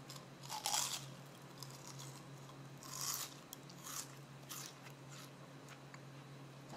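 Biting and chewing a homemade transparent glass-like fried potato chip: a few sharp crunches spaced over several seconds, close but fairly quiet, with softer chewing between them and no talk.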